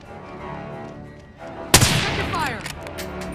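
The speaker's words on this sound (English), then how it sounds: "Throwing flashbang!" In a Call of Duty: Modern Warfare multiplayer match, a flashbang grenade goes off with a sudden sharp bang partway through, followed by a ringing, whistling tail over distant battle noise.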